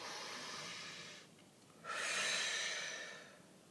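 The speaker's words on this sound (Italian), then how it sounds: "facciamoci un bel respiro profondo" A slow, soft breath, a long audible exhale, a brief pause, then a deeper breath drawn close to the microphone that fades gradually.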